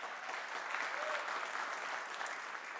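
An audience claps steadily for about three seconds, a dense even patter of applause heard alone at moderate distance.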